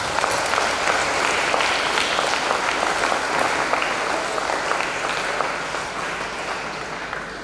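Steady, dense audience applause at an Islamic boarding school sermon gathering, continuous and moderately loud, tapering slightly toward the end.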